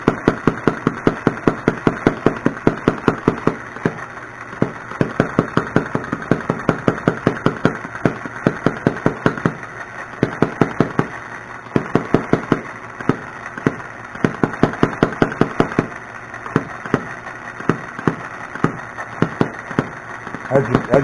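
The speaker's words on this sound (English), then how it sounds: "As these little engines warm up, you gotta lean it out a little more and more." Small engines run on a pulse generator coil, popping in rapid, regular firing pulses that stay steady and fairly close throughout, with a faint voice occasionally underneath.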